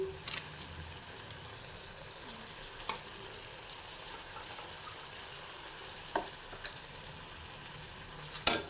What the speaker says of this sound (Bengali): ধনে জিরে গুঁড়ো হলুদ লবণ সব দিয়ে আমি ভালো করে মশলাটাকে কষাবো